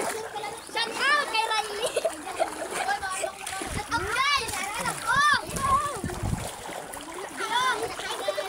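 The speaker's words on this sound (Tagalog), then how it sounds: "Guys, naliligo ang mga bata sa dagat." Children splash and play in the sea at high tide, with repeated watery slaps and splatters mixed with excited kids' shouts and chatter close by.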